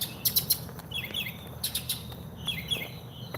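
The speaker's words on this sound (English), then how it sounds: "the birds just started chirping out of nowhere" Several birds chirp and tweet in the morning near Palm Beach Boulevard, bright short calls in scattered bursts over quiet outdoor background noise, fairly faint and with no talking.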